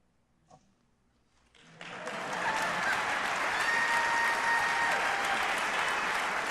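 Applause from the audience at the Rhode Island State of the State address starts after a moment of near silence, then swells quickly into a broad, sustained roar of clapping in a large hall.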